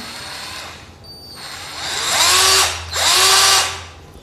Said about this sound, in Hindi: बटन को आप अंदर की तरफ दबाएंगे तो ये ड्रिल मशीन रिवर्स में चलती है।